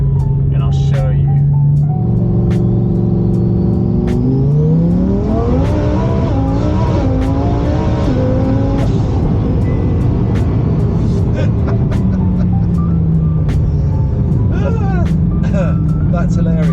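Twin-turbo Lamborghini accelerating hard on a public road, its engine note climbing steeply through a long pull with a brief gear change, then settling into a lower drone. Loud and close from inside the car, with people talking over it.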